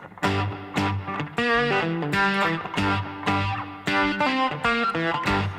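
An electric guitar with heavy reverb plays a strummed chord progression alone, each chord ringing out and washing into the next.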